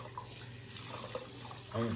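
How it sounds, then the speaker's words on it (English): A cleaning cloth is rinsed under a running tap, a steady low water rush with faint splashing, louder near the end, and no talk. "Just going to rinse off my cloth."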